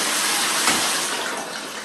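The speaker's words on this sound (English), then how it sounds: "I'm going to turn off the shower so you see how the light goes off and the water drains out" Water from a color-changing LED shower head rushes and drains after the shower is shut off, a steady broadband hiss with a brief swell partway through, close and alone.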